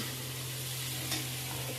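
Tender cowpea pods sautéed in hot spiced oil tempering give a steady, even sizzle and crackle from start to finish, close and moderately loud, with no talk.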